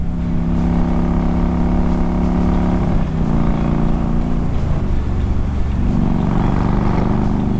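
A large motorcycle, a Triumph Rocket III or Harley-Davidson Road King, is ridden on the road; its deep engine rumble drones loud and continuous under wind noise, shifting pitch slightly as the throttle changes.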